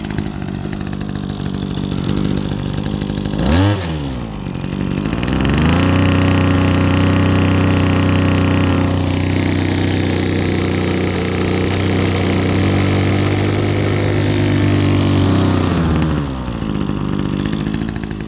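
A small 25.2cc two-stroke VEVOR string trimmer engine sputters, then settles into a steady, buzzing idle that holds for a long stretch before cutting off.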